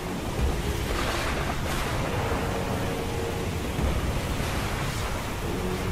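Wild ocean waves surge and crash in a steady, loud roar of surf, with wind noise blowing over the microphone throughout.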